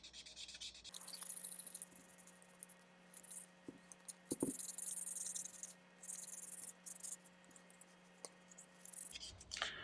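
Quiet, continuous rubbing and scratching of sandpaper on a Peterson meerschaum pipe stem, close up, with a few sharper taps along the way.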